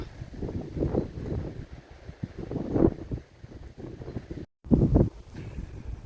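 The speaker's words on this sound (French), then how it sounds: "il y a un vent à décorner les bœufs." Strong gusts buffet the microphone outdoors on a road beside cork woods near Almadén de la Plata, rumbling in uneven surges with a brief drop to silence, no voices.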